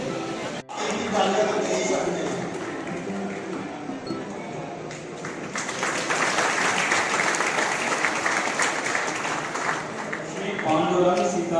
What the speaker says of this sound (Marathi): कृपया आपण सर्वांनी टाळ्या वाजवून